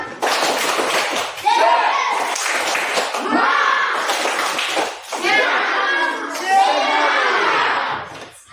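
Schoolchildren in a classroom clap a rhythmic spirit clap together, loud, close bursts of hand claps mixed with their voices chanting along.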